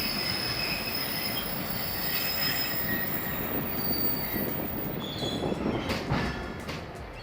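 The Shah Latif Express rolls into Malir station with steady rumbling and high, sustained wheel squeal, heard close from on board, then a few clattering knocks near the end.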